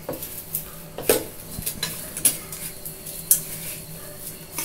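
Grated coconut is stirred into a cooked green gram dish, with soft scraping and clinks from a spoon against the pot, a faint sizzle underneath and a few sharper metallic taps.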